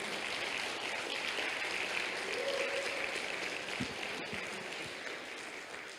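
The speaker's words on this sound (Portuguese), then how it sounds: "Pode aplaudir Jesus" Sustained applause from a large church congregation, a steady wash of clapping that fills the space from start to end.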